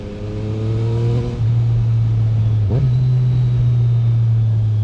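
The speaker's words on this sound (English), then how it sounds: "Accelerating on this thing is so addictive. It pulls so hard" Yamaha MT-09 SP motorcycle engine accelerating hard, a loud close drone that rises in pitch, drops briefly at a gear change, then climbs again and holds steady.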